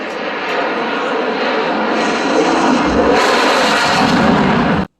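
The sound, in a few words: aircraft at an air show near the runway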